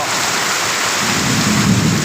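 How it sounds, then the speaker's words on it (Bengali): Heavy thunderstorm rain pours down in Mohanganj, Netrokona, a loud, dense steady hiss with a low thunder rumble swelling toward the end of this brief stretch; no voices. "দেখেন প্রচুর বৃষ্টি এবং বিদ্যুৎ চমকাচ্ছে বিশাল বৃষ্টি দেখেন"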